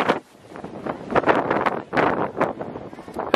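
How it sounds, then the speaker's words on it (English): Strong wind on a stormy Moray coast buffets the microphone in loud uneven gusts, roaring up and down through the whole stretch with no clear talk. "there's nothing I can do about the wind at all"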